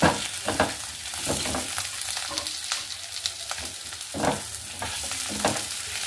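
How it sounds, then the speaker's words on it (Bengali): Potatoes and pointed gourd fry with spices in a pan over raised gas heat, giving a continuous close sizzle broken by a few louder scraping stirs of a spatula, with no talking. "গ্যাস বাড়িয়ে এটাকে এবার একসঙ্গে ভেজে নেব।"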